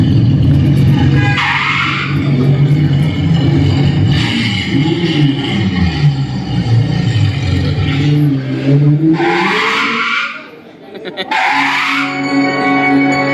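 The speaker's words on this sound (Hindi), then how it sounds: "गाड़ी निकाल लो" A car is driven out, with loud engine revving and tyre skid sounds rising and falling, mixed with voices talking throughout. There is a brief dip near the end before the noise resumes.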